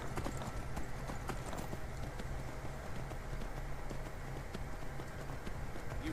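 A horse's hooves clip-clop steadily in Skyrim, a fast, even run of close hoofbeats that lasts throughout over a constant background wash.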